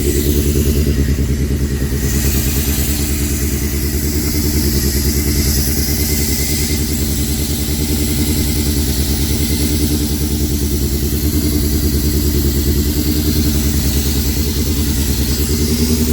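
A Honda CBR1100 Blackbird motorcycle engine idles cold, steadily and loud up close, a constant throbbing rumble with a faint mechanical clatter throughout.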